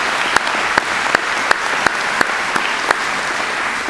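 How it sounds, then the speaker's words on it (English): Audience applause at a high school graduation ceremony for the school's secretarial staff, a steady wash of many hands clapping with a few sharper claps standing out at regular intervals. "Let's give them a round of applause as well."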